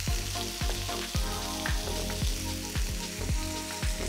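A pasture-raised ribeye steak fries loudly in a pan, with a steady sizzle broken by repeated sharp spatters and pops throughout, and no voices.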